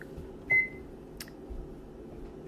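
A microwave oven beeps as it is set to cook a homemade pepperoni pizza side dish, with a couple of short, clear electronic tones over a low kitchen hum.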